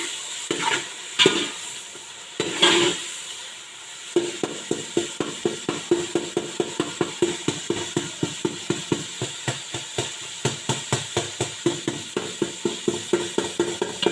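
Freshly cut green chilies being stirred into a frying pan while making chicken yakhni pulao: a steady sizzle under a long run of regular, rhythmic scraping strokes from the spoon against the pan, close and fairly loud.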